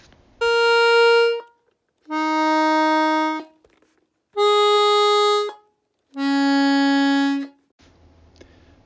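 Four sustained tones from the first bass row of an altered accordion, each chord now voiced by a single reed in the higher octave, played one after another with short gaps, fairly quiet and steady, with no talking.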